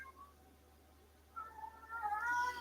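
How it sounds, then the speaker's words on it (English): A house cat meows in a couple of drawn-out, rising calls, faint and somewhat distant in a quiet indoor room, louder toward the end. "Yep, that meow is Sanford"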